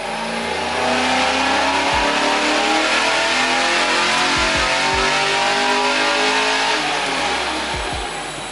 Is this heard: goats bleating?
no